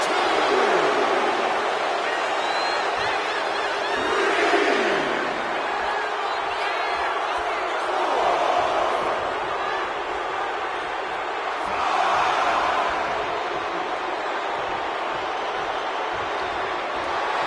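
Wrestling video game arena crowd cheering and roaring steadily throughout, swelling in waves, with a commentator talking over it.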